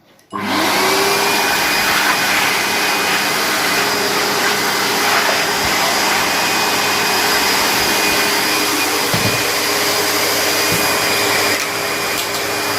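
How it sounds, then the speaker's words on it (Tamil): A Bosch GAS 11-21 vacuum cleaner switches on and roars at a loud, steady whine with a constant hum, running unbroken for over twelve seconds with no talk. "இப்போ நம்ம ஆன் பண்ணி இழுத்து பார்ப்போம் எப்படி இழுக்குதுன்னு."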